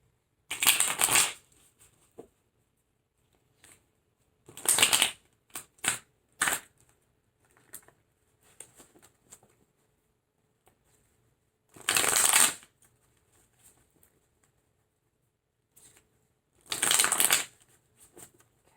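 Tarot cards shuffled close up in bursts of crisp riffling, about five separate runs of a second or so each, with near silence and a few small taps between them.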